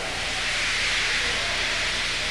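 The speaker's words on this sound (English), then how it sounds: "He just let off steam feebly." A steam engine lets off steam feebly, giving a continuous, even hiss that holds steady from start to finish without breaks.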